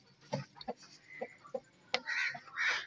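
An Aseel hen gives a run of short, soft clucks at close range, followed by a louder, higher burst of fowl calls near the end.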